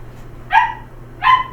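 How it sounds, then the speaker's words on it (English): A dog barks twice, close and loud, the two sharp barks spaced under a second apart over a quiet background. "Shut up, dog."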